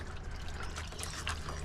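Coolant drains out of an excavator's cooling system in a steady, faint trickle of liquid, continuous and close by.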